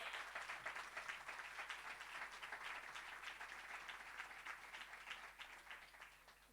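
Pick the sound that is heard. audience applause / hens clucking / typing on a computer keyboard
audience applause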